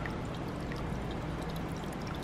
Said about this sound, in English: But isn't that a beautiful water fountain?